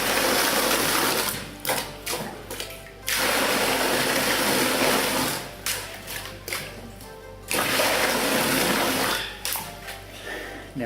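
Water gushes from a homemade manual pump through a 4-inch pipe, lifted about 1.5 meters, in loud rushing surges separated by short, quieter breaks as the pump is worked.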